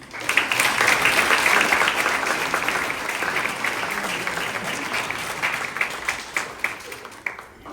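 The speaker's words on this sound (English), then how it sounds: "Everybody clap for the seniors." A school assembly crowd claps for its graduating seniors, loud applause that swells early and then thins into scattered, louder individual claps toward the end.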